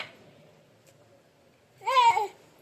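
A cat gives a single short, rising and falling meow near the end, after a stretch of near silence with a faint murmur in the background.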